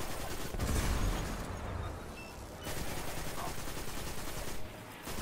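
Wild auto rifle fire in Destiny 2, a dense continuous burst of gunshots with heavy low booms early on, running nearly the whole stretch at steady loudness.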